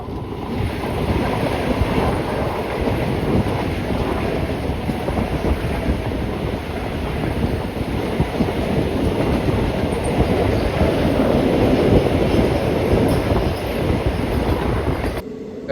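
A Kollam–Trivandrum passenger train rolls along its rails with a steady, loud rumble and clatter heard from inside a dark carriage, mixed with wind noise and continuing without a break and without voices.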